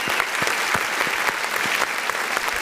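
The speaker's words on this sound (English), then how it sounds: "Give a round of applause to Pookie Martinez" A crowd at a live show gives a round of applause for Pookie Martinez, a sustained wash of clapping with a few sharper individual claps standing out.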